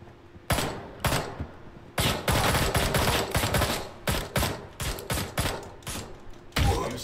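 Loud bursts of automatic gunfire from the video game Ride to Hell: Retribution rattle out in a dense series of rapid shots, several clusters with brief gaps between them, close and dominant.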